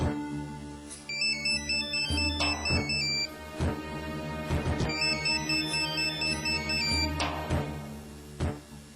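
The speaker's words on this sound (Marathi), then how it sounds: "महत्वाचा फोन असेल" A phone ringtone plays a bright repeating electronic melody with rhythmic beats, loud and clear for several seconds on a Marathi TV serial set, with no talking over it.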